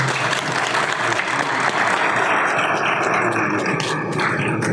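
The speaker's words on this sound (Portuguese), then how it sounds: "Uma salva de palmas, por favor." After a presentation on artificial intelligence for traffic engineering, an audience gives sustained applause, a thick, steady patter of many hands clapping with no break, close and evenly loud.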